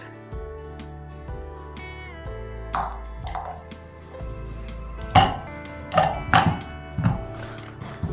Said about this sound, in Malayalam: കുറച്ചും കൂടി ചോപ്പ് ചെയ്ത് കഴിഞ്ഞാൽ കുറച്ചും കൂടി ചെറുതാവും